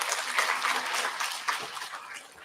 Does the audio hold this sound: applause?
yes